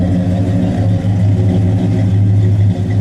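A 1969 Pontiac GTO with a 400 Ram Air III engine and 4-speed idles steadily and loudly up close, a smooth, even low rumble with no talking.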